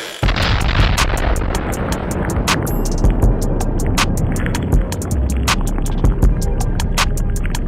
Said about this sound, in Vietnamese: Và thêm vài vụ nổ nữa nha.